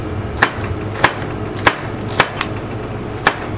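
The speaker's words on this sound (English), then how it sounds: "So we'll take this and we'll just cut a side off. Cut all those four sides off." Sharp knife slicing the sides off a pepper on a cutting board, five distinct close chops at a steady, even pace with no talking.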